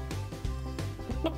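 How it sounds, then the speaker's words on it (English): A rooster on a farm with pigs and lambs gives a run of close, throaty clucks in short repeated bursts, with a sharper high call near the end. "that must be the head rooster"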